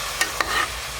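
Cauliflower pulao ingredients with coriander leaves are stirred and sautéed in a pressure cooker, two quick scraping strokes over a faint sizzle, close and brief.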